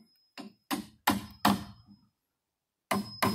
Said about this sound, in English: And now we're chiseling them out.